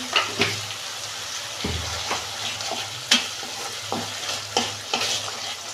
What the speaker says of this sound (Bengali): মশলাটা আমি দু মিনিট কষাবো